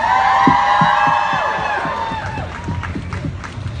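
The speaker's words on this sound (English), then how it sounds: "So please, a round of applause." A crowd at an entertainment magazine's pop-culture festival panel claps steadily with whoops and cheers layered on top. The sound is loud and full, with high shouted voices ringing through the applause.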